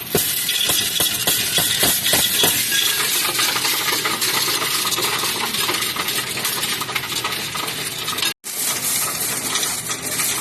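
A coin counting machine steadily takes in a stream of dropped coins, a loud continuous metallic rattling and clinking close by, with one brief gap near the end and no talking.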